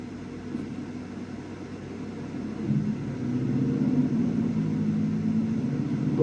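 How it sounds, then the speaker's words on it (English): Toyota Tacoma TRD Pro four-cylinder engine heard from inside the cab, a low muted rumble that swells moderately as it pulls, steady and fairly quiet with no talk. "But kind of a muscular noise for a 4-cylinder."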